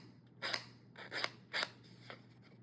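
Scissors snipping decorative paper for a traveler's notebook insert, four quiet close crisp cuts spaced about half a second apart over a faint steady hum.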